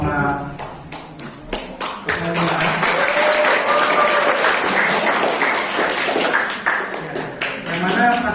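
Sustained audience applause for a cooperative (Kopma) committee at a basic cooperative training session, loud steady clapping building after a few scattered claps and fading with occasional louder bursts near the end.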